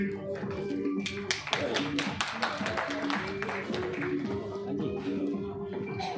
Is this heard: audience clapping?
yes